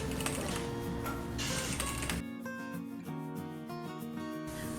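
Domestic sewing machine stitching slowly through the material of a small skincare vanity case, a close, quiet rhythmic clatter of the needle that thins out partway through.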